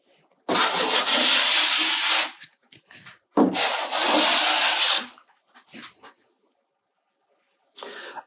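Skimming blade applicator dragged over product on a wall, two long rasping strokes of about two seconds each, followed by short scrapes and a brief final swipe, close and loud.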